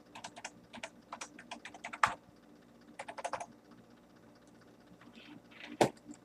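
A password is typed on a computer keyboard for a Dell Dimension 8200, heard as quick bursts of clicky keystrokes with short pauses and a couple of louder key hits, close up, with no voices.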